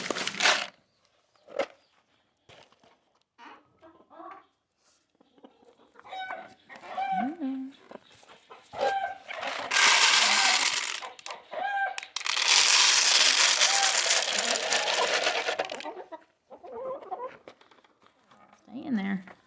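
Chickens cluck and squawk near a brooding area, with scattered clucks, then loud bursts of agitated squawking and flapping, and a person speaking at times.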